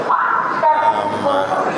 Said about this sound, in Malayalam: അപ്പോൾ ട്രെയിൻ പുറപ്പെടുകയാണ്